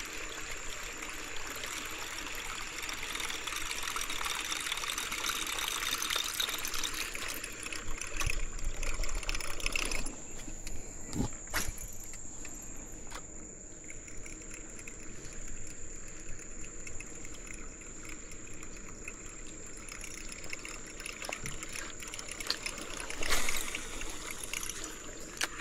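The Kamunting river in Perak flows with a steady rushing wash that runs continuously at moderate loudness, with a few brief knocks and splashes breaking through.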